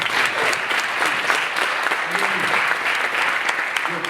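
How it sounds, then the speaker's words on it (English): Loud, sustained applause from a crowd, steady clapping throughout with a few faint voices mixed in. "giving yourself a nice, massive round of applause for being here"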